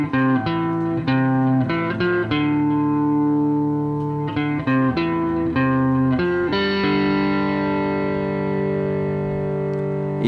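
Distorted electric guitar plays a longer run of a melody, with short choppy picked phrases followed by a final held chord that rings out, loud with no talking.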